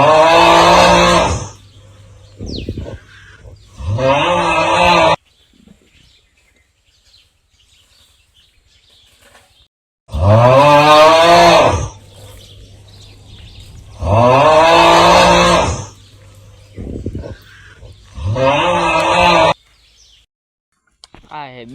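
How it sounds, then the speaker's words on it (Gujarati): A cow on a farm gives several loud, close moos with short pauses between them, some calls stretched out and others clipped. "આ છે ગાય."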